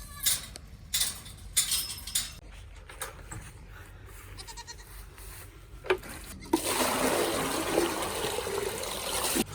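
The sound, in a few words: water poured to rinse milk off the milk stand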